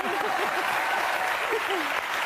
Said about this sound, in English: You can applaud. You can applaud.